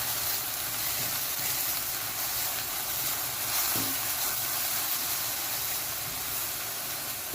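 Hot tempering poured into a mixed red and green spinach kootu makes a steady, close sizzling hiss that holds evenly for several seconds, with no voices.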